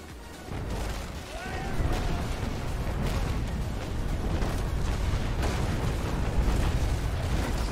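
Naval cannon fire in the Naval Action sailing-ship game: a sustained, loud rumble of booming broadside shots and impacts rolls on continuously for several seconds at close range, with a brief whistling sound near the start.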